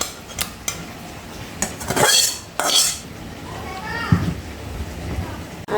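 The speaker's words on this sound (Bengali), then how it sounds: "আর মাছটা কিন্তু আমি এখন বেড়ে নেব" Utensils clink and scrape against a pot while fish curry is served, giving a few scattered metallic knocks and rattles under voices, including a child's, in a home kitchen.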